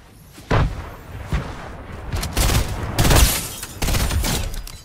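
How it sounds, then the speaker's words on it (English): Several grenade blasts go off in Fortnite during a competitive cash cup match, a burst of loud booming explosions arriving in quick succession, with crackling debris between hits and no talking. "That is the best grenades I've ever thrown in my life."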